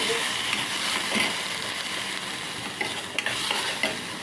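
Tomato and vegetables being stirred and fried in a pan for a semolina snack, an even close sizzle with light scraping and occasional soft clinks of a spoon against the pan.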